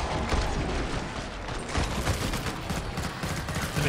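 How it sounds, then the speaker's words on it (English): Dense, sustained machine gun fire from the video game Killing Floor 2, a loud continuous rattle of rapid shots with no pauses and no talking. "The machine gun just feels so good."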